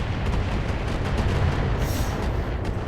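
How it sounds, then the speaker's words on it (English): Gauss rifle firing in the video game Battletech, a loud, dense rumbling blast with heavy low-end boom that stays full and sustained across the short moment. "Ooh, this was the Gauss rifle."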